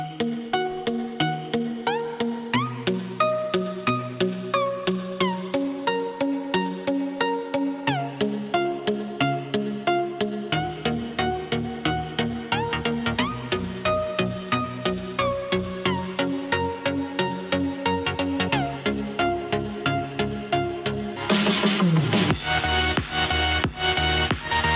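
Music demo played over an Infinity (JBL) Fuze 100 portable Bluetooth speaker, a steady beat-driven track with bass and melody running throughout, rising into a denser, brighter section near the end, with no talking.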